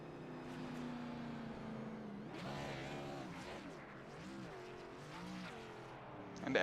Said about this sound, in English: He will do an Alan Kowicki Polish victory lap.